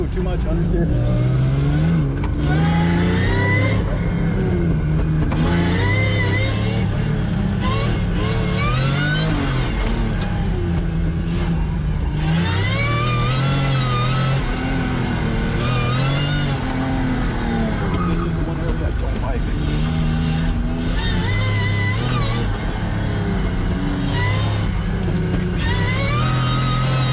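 A supercharged V6 Toyota MR2 runs an autocross course, its engine droning and rising and falling in pitch as it accelerates and lifts, loud and constant, while a person talks over it.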